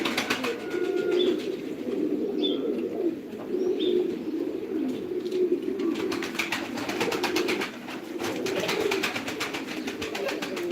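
Pigeons coo repeatedly in soft, throaty rolls close by, with occasional chirps and fluttering amid a busy flock.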